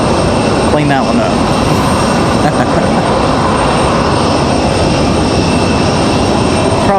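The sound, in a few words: United airliner jet passing at airport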